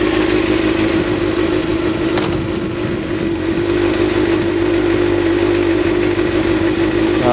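A Kawasaki ZXR400 motorcycle engine runs steadily at close range, holding an even idle-like drone with a steady low hum throughout.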